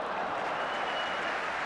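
Football crowd at a Liverpool v Aston Villa or Norwich City v Newcastle United match applauding a fullback, a steady dense wash of clapping held at even loudness throughout.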